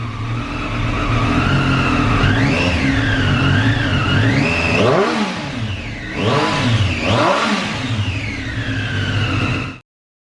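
A vehicle fitted with an Arrow exhaust revs loudly and steadily, its high whistling tone rising and falling with each throttle blip before cutting off abruptly.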